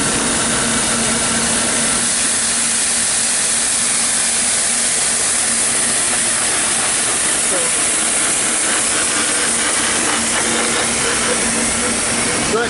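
Machine tool cutting about 6 thou off the outside diameter of 1.25 inch bar stock on a trade-show floor, a steady loud broadband hiss with a faint constant hum and no clear breaks, mixed with busy hall noise.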